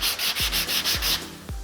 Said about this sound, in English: this is a good time to sand all the pieces as clean as we can